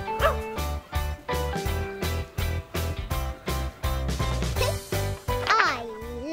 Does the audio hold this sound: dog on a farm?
yes